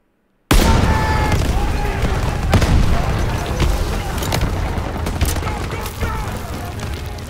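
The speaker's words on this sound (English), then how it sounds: "What the heck am I getting hit by artillery?" Artillery shells explode in the WWII video game Call of Duty: WWII, a loud, sudden boom followed by sustained rumbling blasts and scattered gunfire cracks, dense and close throughout.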